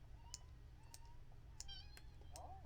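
A small cat in The Sims 4 meows a few times, faint and brief, with sharp mouse or keyboard clicks scattered around it over a steady low hum.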